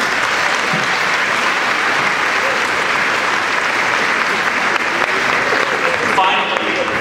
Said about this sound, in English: A round of applause for our faculty, please.